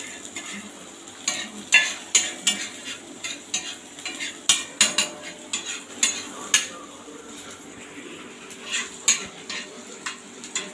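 Spatula stirring chicken fried rice with carrot and egg in a pan, giving repeated metallic scrapes and clinks in an irregular rhythm over a soft sizzle, close and continuous.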